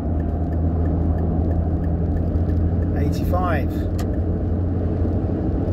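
A 1.4-litre original Renault Scénic drives along a motorway while overtaking a lorry, with a steady droning engine and road roar inside the cabin and a brief rising whine midway, as someone speaks over it.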